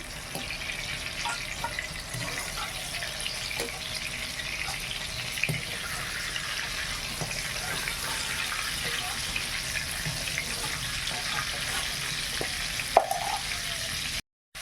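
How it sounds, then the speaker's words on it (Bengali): Cauliflower fries in oil in a pan with a soft, steady sizzle that runs evenly throughout, with an occasional faint clatter. "ফুলকপিটা সুন্দর করে ভাজা হয়ে গেছে,"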